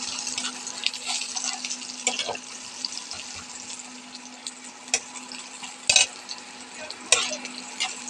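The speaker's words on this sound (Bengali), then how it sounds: "মাছের ঝালের পেঁয়াজটা ভাজছি।" Onions frying for a fish curry give a soft, steady sizzle, broken by sharp clicks and scrapes of stirring, close and without talk.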